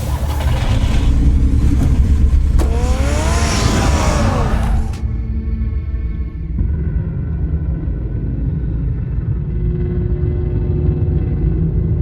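A car engine in a Batman video game revs hard and then the car drives off, fading into a steady low rumble that lasts to the end.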